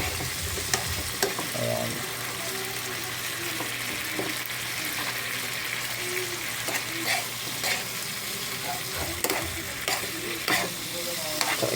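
Leftover kare-kare reheats in a pan with a constant sizzle, broken by regular scraping and clanking of a spoon stirring it; a voice speaks one brief word.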